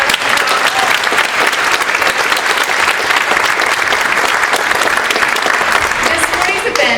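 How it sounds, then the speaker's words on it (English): An audience at a state governor's award for excellence ceremony applauds honorees with loud, continuous clapping that stays full and even throughout. "So another round of applause."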